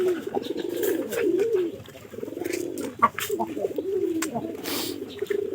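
Pigeons cooing in a loft or coop, soft rolling coos repeating close by and fairly steady, with a person's voice faintly present at times.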